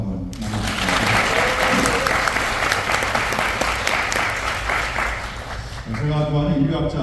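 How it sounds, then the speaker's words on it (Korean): Loud, dense applause from the audience at a book launch celebrating an author's hundredth book, filling the room for several seconds before tapering off as a voice returns. "이 같이 보이신 소중한 분들 다 같이 박수 한번 나눠주시겠습니다"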